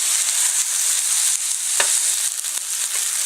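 Hamburger patties sizzle steadily in a hot pan, a loud continuous frying hiss with occasional brief spatula scrapes and pops, no talking.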